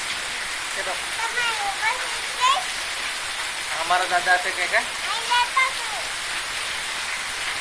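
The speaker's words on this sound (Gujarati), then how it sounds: "જુઓ જુઓ કે વરસાદ કેવો છે" Steady broadband rain hiss fills the scene, with several people talking over it at moderate distance.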